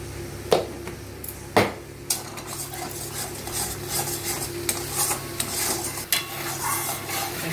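Masala and mutton fry in a pan with a steady sizzle while a spoon stirs and scrapes the bottom, producing occasional sharper knocks against the metal, close and continuous throughout.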